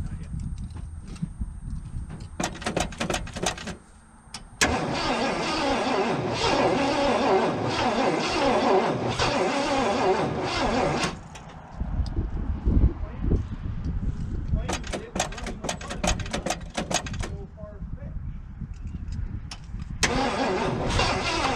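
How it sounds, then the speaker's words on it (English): A 1976 Ford F250 pickup engine cranks in several loud, long bursts separated by pauses, the starter churning while the engine catches only briefly, with voices talking between attempts. "we're going to see if we can get this thing to crank and then to pop"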